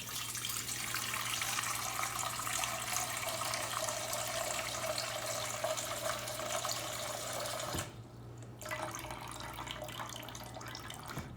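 Distilled water, 460 grams, pours in a steady stream into a dough mixing bowl for about eight seconds, stops briefly, then resumes more quietly.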